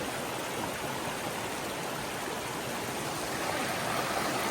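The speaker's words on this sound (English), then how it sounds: "That creek coming down." A creek flows steadily nearby, a constant broadband rush of water with no breaks or voices.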